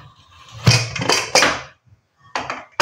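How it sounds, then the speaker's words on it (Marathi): A cooled pressure cooker holding papdi bhaji is opened with a few loud metallic clanks and scrapes of the lid, in close separate bursts with a short pause before a final clatter. "आता आपण कुकर उघडून बघूया।"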